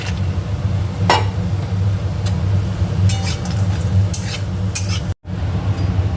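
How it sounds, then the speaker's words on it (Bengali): Bori lentil dumplings frying in mustard oil in a kadai, with a steady low sizzle under a few sharp metal clinks and scrapes of a utensil against the pan. "এখানে কড়াইতে সর্ষের তেল দিয়ে দিয়েছি আগে বড়িটা ভেজে তুলে নেব"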